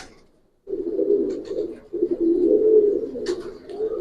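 Giribaz pigeons in a loft break into close, throaty cooing after a brief silence, a dense low warble that continues steadily, with a faint sharp chirp near the end.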